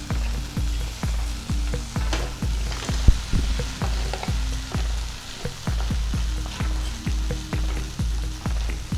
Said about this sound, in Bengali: এখন ম্যারিনেট করা চিংড়ি মাছগুলো আমি দিয়ে দিচ্ছি।